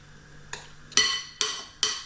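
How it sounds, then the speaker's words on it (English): A spoon stirs the sauce mix for prawn tacos, scraping a bowl in four short bursts, the first faint and the last three sharper and louder, close up with no talking. "just give that a stir into our mix, our sauce"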